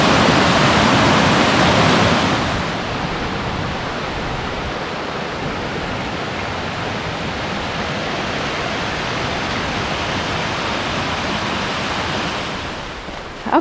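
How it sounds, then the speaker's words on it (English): Steady rushing water from Bradley Fork Creek in Great Smoky Mountains National Park, a broad continuous hiss that is louder at first, then settles into an even flow. "Creek sounds really pretty."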